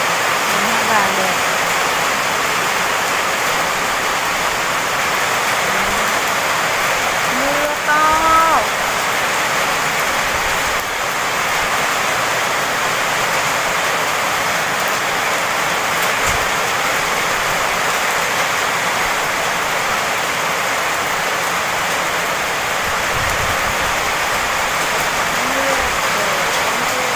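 Heavy rain pours steadily over a farm garden with a trellis of yellow flowers, a dense, loud, even hiss throughout with a few faint bird chirps in the background.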